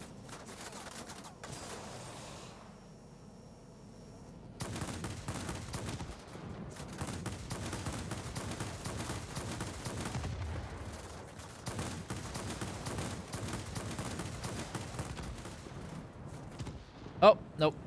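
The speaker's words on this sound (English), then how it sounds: "I thought it was just rear gunner fire" Rapid machine-gun fire from an aircraft's rear gunner rattles through a World War II-era air combat game, sustained bursts at moderate distance continuing for most of the stretch under low engine drone.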